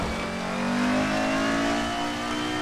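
DTM race car from the Group A field on the Nürburgring in Assetto Corsa, engine droning loudly and steadily as it accelerates, with no one speaking.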